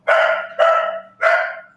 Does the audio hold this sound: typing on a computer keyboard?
no